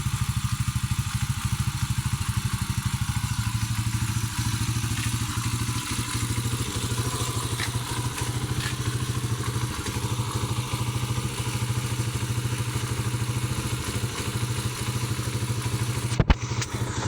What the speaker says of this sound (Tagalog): Kaya paandar natin kasi bago.